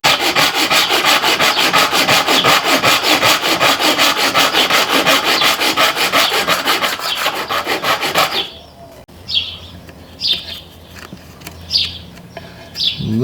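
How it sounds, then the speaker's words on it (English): A hand saw rasps through a wooden frame piece in fast, steady back-and-forth strokes, loud and close, then stops; birds chirp faintly afterward. "But let's finish sawing this one and see what we get."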